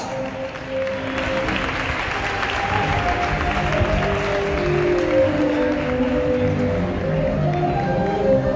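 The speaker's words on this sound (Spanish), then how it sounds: "Un fuerte aplauso, que se note que tenemos ganas de fallas." Spectators at a Valencian traditional costume fashion show applaud in a loud, sustained ovation, while tonal music plays underneath the clapping.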